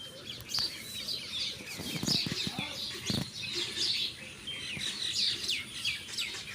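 Pet pigeons with day-old chicks, heard as faint, busy high chirping and twittering, with some wing flaps and a few low thumps partway through.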